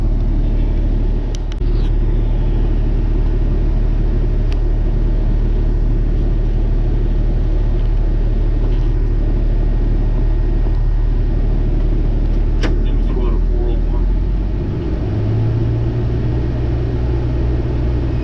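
A bus engine rumbles steadily while driving, a loud, continuous low drone that stays even throughout with only slight shifts in pitch toward the end.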